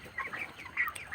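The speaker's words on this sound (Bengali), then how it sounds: "আমার ব্রয়লার মুরগির বয়স হচ্ছে মাত্র 27 দিন" 27-day-old broiler chickens in a poultry farm shed at night make soft, scattered clucks and chirps, fairly faint and steady with no talk over them.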